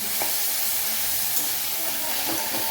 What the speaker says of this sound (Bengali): তেলে টমেটোটা দিয়ে দিয়েছি টমেটোটা ভালো করে মাখবো